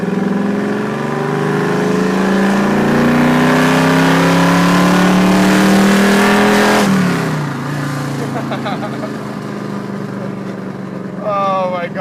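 A 1968 Plymouth Road Runner muscle car roars through a hard, loud acceleration pull, engine pitch climbing steadily before a gear change drops it, then settling into a rumbling cruise close by.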